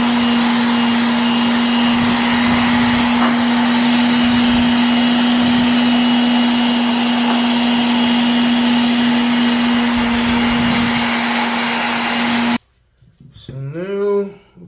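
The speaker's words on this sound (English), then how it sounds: "we're going to use the old sander here to finish that off" Continuous loud hum and whir of an electric sander finishing a wooden axe handle on a large Cold Steel Trail Boss axe, running steadily for about twelve seconds before stopping abruptly, followed by a short burst of a voice.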